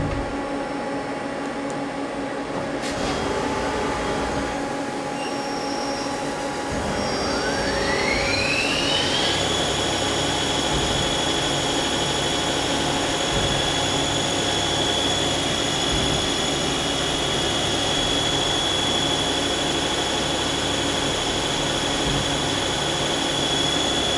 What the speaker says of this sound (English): So let's go ahead and run that now. Turn on the coolant,